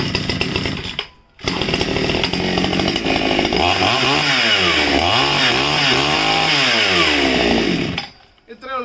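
A chainsaw engine is started after the choke is pulled and then set off. It catches and runs loud and close for several seconds, revving up and down, then cuts off.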